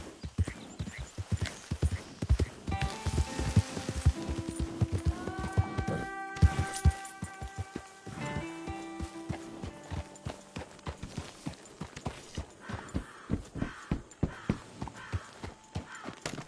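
Horse hooves clip-clop in Red Dead Redemption 2, a steady walking rhythm with a neigh and other in-game sounds layered over the hoofbeats.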